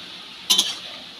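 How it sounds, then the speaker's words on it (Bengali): A spoon scrapes and clinks twice against a pan of tomatoes frying in oil with turmeric and salt, a short clatter over a faint steady hiss. "হলুদ লবণ দিয়ে টমেটোগুলোকে খুব ভালো করে ভেজে নেব।"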